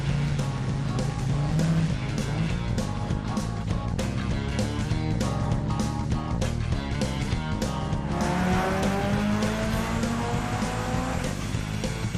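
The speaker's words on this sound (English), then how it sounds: "It's a record-setting dyno pull for the event." A modified street car, shown alongside a Viper GTS at a 2003 street car challenge, revs hard through a record-setting dyno pull, a loud sustained engine roar with rising pitch sweeps across the run, continuous and close.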